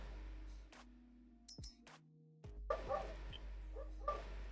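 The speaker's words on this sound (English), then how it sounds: "So Indy's outside barking, and that's what you just heard." A dog named Indy barks outside, a few muffled, distant yips and barks heard faintly through walls against a quiet room hum.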